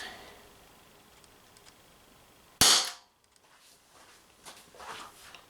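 An Umarex TP50 Compact CO2 pistol, 7 joule version, firing rubber balls near the end of its CO2 canister: one sharp, loud close shot standing out from quiet room noise, followed by faint handling rustles.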